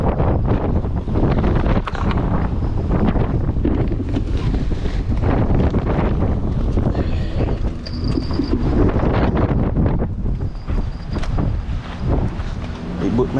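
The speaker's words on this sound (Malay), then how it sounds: "Angin kuat gila nampak." Strong storm wind blowing over water under the Penang Second Bridge, loud buffeting wind rumble against the microphone that stays constant throughout, with faint voices beneath.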